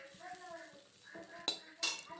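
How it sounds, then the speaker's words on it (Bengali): Neem leaves and potatoes are stirred and fried in a pan, with a few sharp metal clinks of the spatula against the pan while someone speaks over the cooking. "আমি নেড়ে চেড়ে ভালোভাবে ভেজে নেব"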